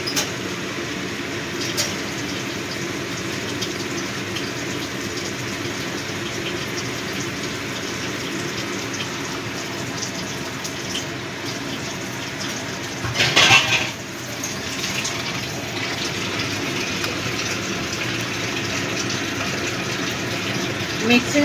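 Water runs steadily into a mixer grinder jar being rinsed out, a constant gushing wash with a brief louder clatter of the jar partway through, while a voice speaks over it.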